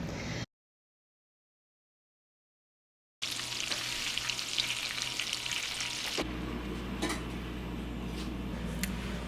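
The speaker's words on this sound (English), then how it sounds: "I'm currently in the kitchen and I'm browning some butter." Butter browning in a kitchen pan, a steady crackling sizzle with occasional ticks and stirring, heard close after a brief silence, with no talking.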